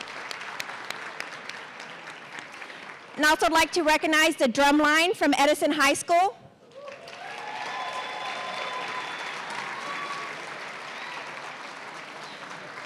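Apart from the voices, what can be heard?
audience applause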